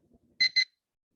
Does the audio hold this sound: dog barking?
no